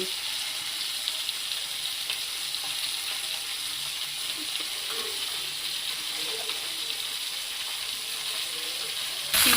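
Fish frying in very hot mustard oil makes a constant, fairly soft sizzle throughout, with a brief louder surge at the very end.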